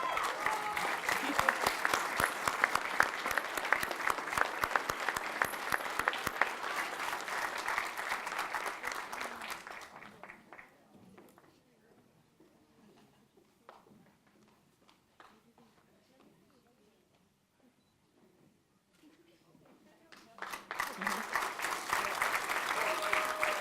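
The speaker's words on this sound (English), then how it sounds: "Please join me in another round of applause" Loud, sustained applause from a crowd at an athletics hall of fame banquet, fading away to near quiet for about ten seconds before a second burst of clapping swells back up.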